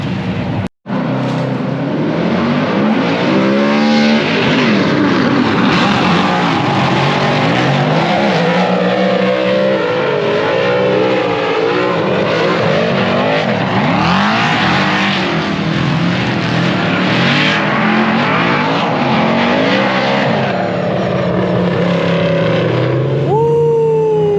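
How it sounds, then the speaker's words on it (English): Loud engines roar and rev continuously as Mustang RTR cars race by nearby, pitch sweeping up and down with each pass. "I've never seen our two cars running from outside"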